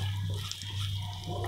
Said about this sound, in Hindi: अब जो ये पालक की ग्रेवी है उसको डालते हैं।